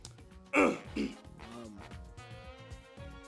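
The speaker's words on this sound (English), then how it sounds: "Let me clear my throat." A short, rough throat clearing bursts out near the start, followed by a second smaller grunt, then quiet murmuring and low background sounds.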